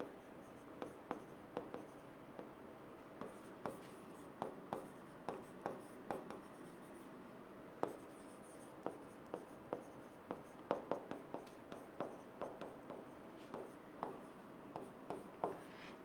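Pen or pencil scratching across paper while working out a Class 8 compound-interest math problem, a steady run of short strokes and taps spread over the whole stretch, fairly close and quiet, with no talk.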